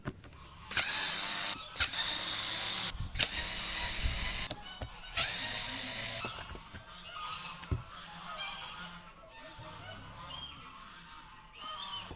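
A loud, rough mechanical whine from a sparking rotary hammer running in bursts for several seconds, then quieter motor rumble with clatter.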